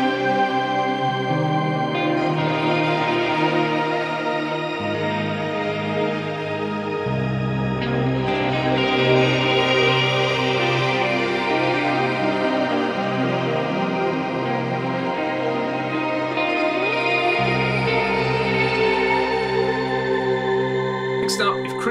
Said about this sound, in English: That one combined with the black hole algorithm is incredible.